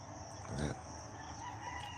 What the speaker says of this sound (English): Roosters are going off.